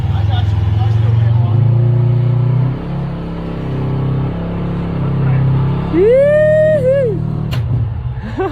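Off-road vehicle at Sand Hollow revving in sand: a steady low engine drone rising in pitch as throttle is applied, with people talking and shouting over it.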